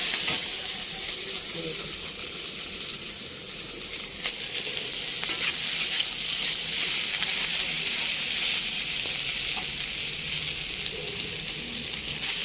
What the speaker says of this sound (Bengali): এখন পেঁয়াজ আর লঙ্কা দিয়ে ভাজবো